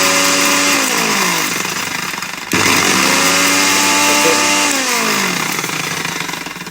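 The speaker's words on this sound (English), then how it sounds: "put it into this like a spice blender" An electric spice blender grinds whole spices for a lamb bhuna, a loud close whining motor that runs continuously, dips briefly midway, then resumes its high buzzing grind.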